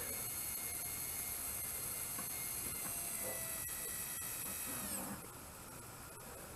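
An HO scale Grandt Line 23-ton boxcab diesel locomotive motor runs turned all the way up, giving a steady, close electric whine with a tonal hum. Near the end it drops to a quieter, lower drone.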